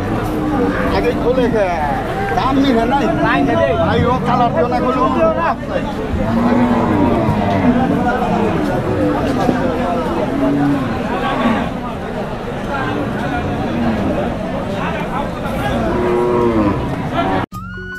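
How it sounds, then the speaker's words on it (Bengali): Cattle at a large weekly cattle market in Kaitla, Mirzapur, Tangail, lowing repeatedly near and far over a busy crowd murmur, with someone talking throughout. "অনেক গরু উঠছে আজকে এই হাটে।"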